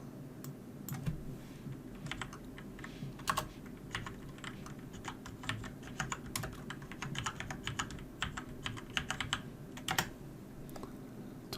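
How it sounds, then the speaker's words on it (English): Close, quiet typing on a computer keyboard, a steady run of quick key clicks with small pauses, heard alone for about eleven seconds. "Type in health benefits."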